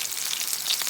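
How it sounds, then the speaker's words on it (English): Meatballs sizzling in a frying pan, a steady close crackle and hiss filling the whole moment on its own. "Browned and sizzling"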